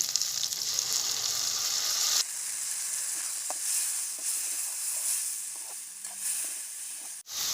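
Loud, steady sizzling and hissing from ground onion and tomato paste frying in a hot pan, with occasional stirring scrapes and a brief drop partway through.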